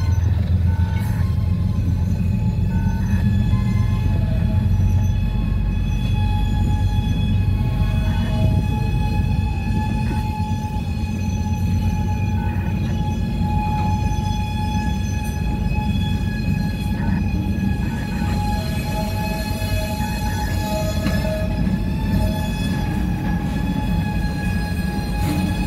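A CSX empty autorack freight train with a Dash 8 locomotive rumbles past steadily, with a continuous low roar and high metallic squeals and whines from the wheels and brakes.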